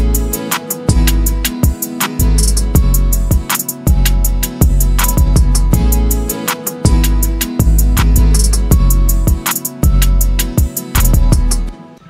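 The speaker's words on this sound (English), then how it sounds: "the drums plus the melody sound something like this" A produced beat plays a steady drum pattern with punchy kicks, snares and hi-hats alongside a looping synth melody, loud and continuous for about twelve seconds with no voices.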